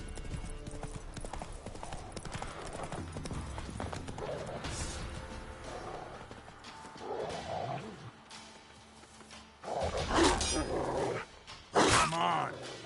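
Hoofbeats clip-clop from a horse ridden in The Witcher 3, mixed with game ambience and creature growls, with several louder bursts of action toward the end.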